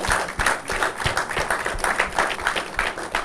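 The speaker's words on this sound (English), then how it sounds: "Do I need to tell you to clap your hands or to show her some love?" An audience claps steadily through a television discussion program, a dense, continuous patter of many hands at moderate loudness with no talking over it.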